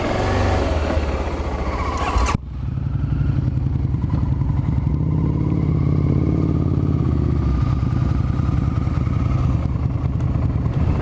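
A sport motorcycle engine rumbles steadily at close range while riding through Brooklyn streets, a loud continuous drone with a sharp shift in tone about two seconds in, then sustained throaty running to the end.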